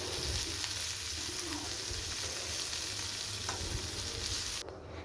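Bitter gourd pieces fry in a little oil in a pan, giving a steady close sizzle with occasional scraping from stirring that drops away near the end.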